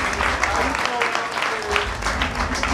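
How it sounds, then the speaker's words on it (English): Applause from the audience at a ballroom mini ball event held in a warehouse, a steady dense patter of clapping that runs the whole stretch. Cheers and voices carry through it. "they deserve a round of applause."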